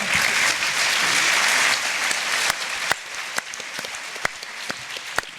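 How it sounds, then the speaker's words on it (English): A festival crowd claps steadily for a panel, the applause dense at first and then thinning into a few scattered, separate claps. "I will just ask for a brief round of applause for our panel"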